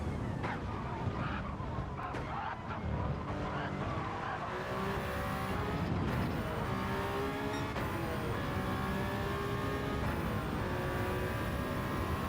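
Race car engine in a sim racing game at Le Mans, with a steady dense roar, repeated rising revs and gear shifts, and tire squeal, continuous and loud throughout.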